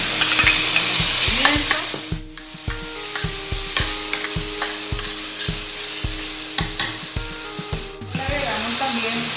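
A sofrito of onion and pepper sizzles loudly in a pan while a utensil stirs and scrapes in a steady rhythm, close up, with two brief dips in the frying noise and no speech.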